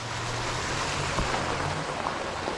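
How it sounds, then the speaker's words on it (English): A flooded creek, normally a shallow ditch, rushes in a steady broadband wash with a low hum underneath, continuous and fairly close, with no speech. "still got that lovely sound of rushing water"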